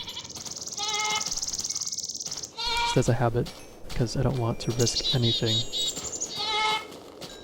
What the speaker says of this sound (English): familiar with goats in Mo Creatures mod, they will eat anything that falls on the ground